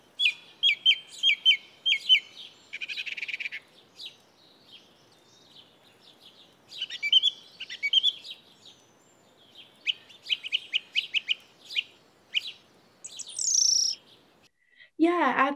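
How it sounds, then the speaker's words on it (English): A song thrush sings clear, high phrases, often repeated several times in short bursts with brief pauses, loud and close against a quiet background. "they have the name song thrush. They have that beautiful song. They repeat little phrases and notes"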